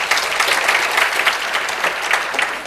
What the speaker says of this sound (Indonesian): Kita beri tepuk tangan untuk kebenaran ini